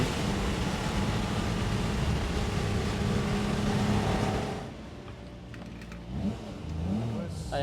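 A 1961 Ferrari 250 GT Pininfarina Cabriolet Series II engine roars steadily at high revs while driving, then drops to a lower idle-like rumble with a few brief revving swells.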